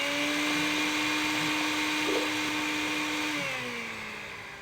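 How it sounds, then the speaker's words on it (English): In the video game Dead Rising, a blender spins with a steady, loud motor whine and sustained tones that shift pitch slightly partway through, then slowly fade out. "I've heard it actually makes the drinks better for Frank if you spin with the blender"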